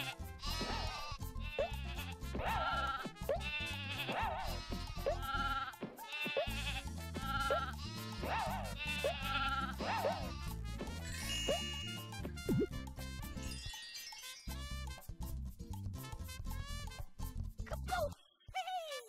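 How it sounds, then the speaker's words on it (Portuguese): Sheep bleating in the PS1 platform game Croc: Legend of the Gobbos during a sheep minigame, repeated loud bleats over bouncy game music with jingles and chimes throughout. "Teve tipo um minigame ali de ovelha."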